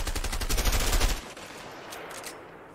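Gunfire in a prison escape video game: a dense, loud burst of rapid automatic shots for about a second, then cutting off to quieter background noise.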